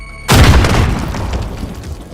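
A frag grenade explodes in a video game with one sudden, loud, deep boom that rolls and fades slowly over a couple of seconds.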